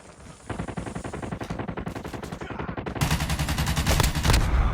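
Sustained rapid automatic weapon fire in Call of Duty Mobile, a dense unbroken rattle of shots that grows heavier and louder toward the end, with no talk over it.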